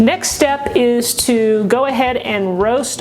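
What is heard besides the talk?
No everyday noise stands out behind the speech.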